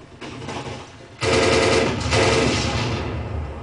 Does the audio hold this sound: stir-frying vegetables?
no